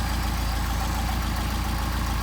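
A Mercedes-Benz 190SL engine with Solex carburetors idles steadily during carburetor adjustment, a close, even low throb with a regular pulsing rhythm and no talk.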